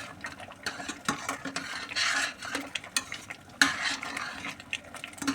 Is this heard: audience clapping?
no